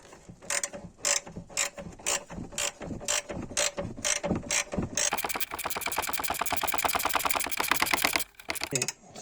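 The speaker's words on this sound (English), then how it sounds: "I've got a ratchet spanner here which helps." A ratchet spanner tightens a nut and washer on threaded rod while a front subframe bush is fitted on a Ford Kuga Mk1, giving close, loud bursts of rapid clicking that speed into a continuous ratcheting run.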